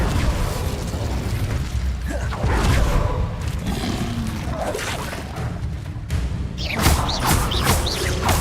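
Fiery bursts and whooshing blasts erupt in the Hogwarts Legacy video game as the Incendio fire spell is cast, loud and dense with thuds and pops amid ongoing game action.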